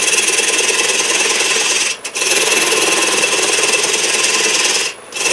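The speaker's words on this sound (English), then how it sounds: "then I'll use a small detail gouge, and I can come in here and back scrape that." A gouge back-scraping a spinning workpiece on a wood lathe gives a steady, close rasping hiss that runs nearly without a break, dipping briefly twice as the tool lifts off.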